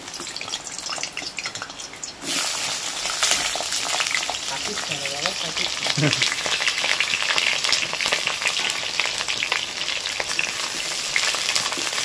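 Whole pointed gourds (potol) fry in hot oil, a dense, steady sizzle with crackling bursts that jumps louder after about two seconds as they go into the pan, close by and continuing without talk.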